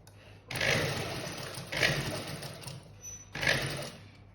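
A sewing machine stitches a straight side seam in cloth, running in three close, steady bursts separated by short pauses, with no talking over it.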